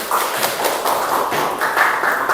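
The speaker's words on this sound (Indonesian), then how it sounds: "Iya, boleh tepuk tangan ya" A classroom group at an Indonesian school claps together in a steady, continuous burst of applause, fairly close and even in loudness throughout.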